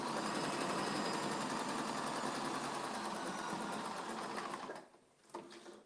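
A sewing machine stitches quilt blocks of half-square triangles for a Flying Star quilt, a rapid, even whirring hum that runs steadily, then slows and stops near the end with a brief restart.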